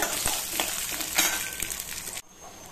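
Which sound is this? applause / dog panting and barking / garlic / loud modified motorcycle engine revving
garlic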